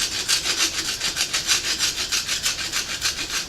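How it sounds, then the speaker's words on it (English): Rhythmic back-and-forth scraping on the top of a Ford AA engine piston, a gritty rasping stroke repeated steadily about five times per second, close and continuous with no talk. "let me scrape this down."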